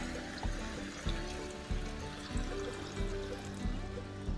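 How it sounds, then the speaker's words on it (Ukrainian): Boiled water is poured into a pot of stew topped with garlic and potatoes cooking over a wood fire outdoors, a faint, continuous trickling stream with soft periodic knocks. "І зальємо кипяченою водичкою"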